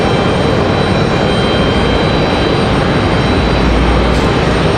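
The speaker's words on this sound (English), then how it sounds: "It is JetBlue 1903 now, headed to San Juan" JetBlue airliner departing for San Juan, Puerto Rico, with a loud continuous engine roar close by and a deeper swell near the end.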